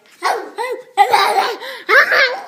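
A young child imitates a dog with three bursts of excited, bark-like yelps mixed with giggles, close and loud.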